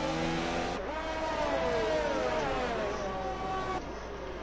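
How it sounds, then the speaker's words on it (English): A race car engine in the FlatOut racing game stuck bouncing off its rev limiter, a harsh, strained drone that wavers and stutters at constant high revs, fairly loud and close throughout with no break. "Bullet Boy has the rev limit glitch. Sounds horrible."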